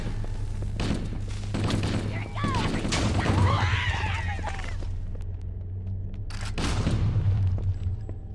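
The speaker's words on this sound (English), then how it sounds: "There's a bunch of explosions" Explosions and gunfire erupt in the Halo level The Maw, with booming blasts and a rapid volley over a steady low in-game hum, a bright burst near the middle and another toward the end.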